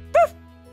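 A human voice imitates a dog with one short, sharp bark, close and clear, then silence.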